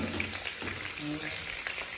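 Tempering in a kadhai wok sizzles and crackles briefly at close range, faint and continuous, with stirring noises and no voices.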